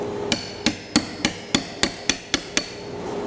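Hammer blows on a chisel trimming out a hinge recess in garage cabinet work, about nine sharp, evenly spaced strikes ringing close and loud with no talk.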